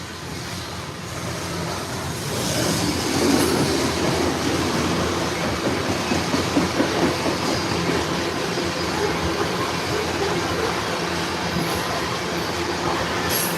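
A train rolls past a station platform in Ottumwa, Iowa, with a steady loud rumble of wheels on rails, a faint squeal and rhythmic clatter that swells slightly and then holds, heard up close with no talk.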